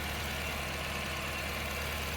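Supercharged Toyota Previa engine idling as it warms up after a fuel injector replacement, a steady, even, dense rumble close by with no voices.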